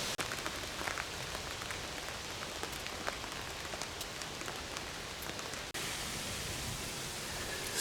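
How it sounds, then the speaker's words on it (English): Heavy rain falling outdoors and drumming steadily on surfaces nearby, a dense, even hiss with scattered individual drops, continuous for the whole stretch with one brief cut. "it's actually raining pretty good right now"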